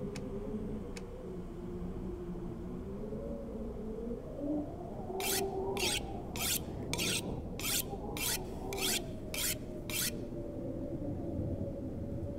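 A hand file sharpens a hatchet blade in eight evenly spaced rasping strokes, close and crisp over a quiet, low background with a couple of faint ticks beforehand.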